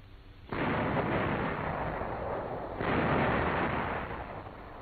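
Tank main gun firing during combat training from a hillside position, two loud, heavy blasts with long rumbling decay, the second about two seconds after the first, no voices.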